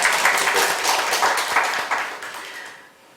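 At a CEO talk show at the ITMC 2019 conference, the audience breaks into brisk applause. The close, lively clapping thins out and fades away over about three seconds.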